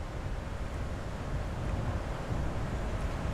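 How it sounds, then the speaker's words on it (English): Steady roaring wind in the storm video game Funnel Runners, a dense continuous rush with no talking over it. "why is it so windy out?"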